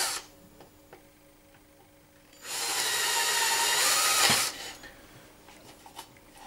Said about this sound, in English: I may as well drill the clearance holes for the fixings for the indicator